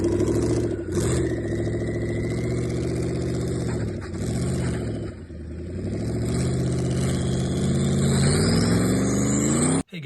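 Twin-turbo Gen 3 Ford Coyote V8 with a 10R80 transmission revving, a loud low growl that swells, dips and climbs again, ending in a sharp rise before cutting off abruptly.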